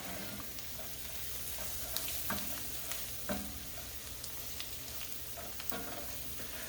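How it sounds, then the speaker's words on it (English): Flour browning in butter with onions for a green bean casserole, stirred in a pan, gives a soft, continuous sizzle broken by repeated scraping strokes of the spoon at a steady rhythm, with no talking. "I'm going to stir this around just to make sure that all the flour is incorporated"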